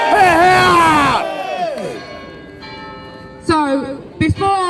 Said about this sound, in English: So, love the bells again.